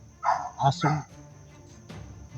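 A stray dog gives three quick, loud barks close by, then goes quiet under a low background murmur.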